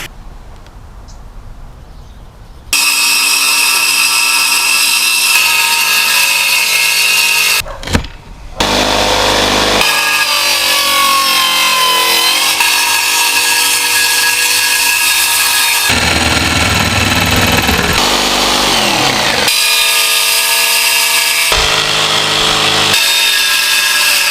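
A power saw whines loudly through wood in long continuous cuts, cutting out a center console piece, briefly stopping once, with a quiet stretch before it starts.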